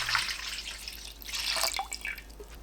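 Water, 1.2 liters, poured into a container packed with kohlrabi, a continuous splashing, gurgling stream close by, heard alone.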